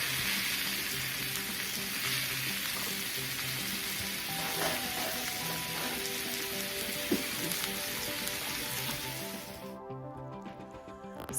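Beef steak sears in a cast iron pan with a continuous loud sizzle and crackle, steady throughout, with faint background music under it before it cuts out near the end.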